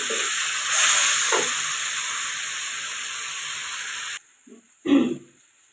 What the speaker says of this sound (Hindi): अब हम इसमें डालने लगे हैं टमाटर का पेस्ट। इसको भी डाल के अच्छे से भून लेंगे।